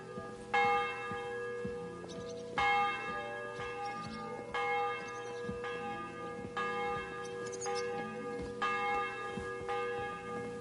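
A church bell tolls in Kingdom Come: Deliverance, five slow evenly spaced strikes, each ringing out with a long shimmering decay.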